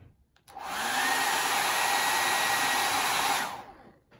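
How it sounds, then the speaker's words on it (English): A hair dryer is switched on and blows air for about three seconds, a loud, steady whooshing roar with a high whine that begins and ends abruptly, with no talk. "What do you think is going to happen when I turn the hair dryer on?"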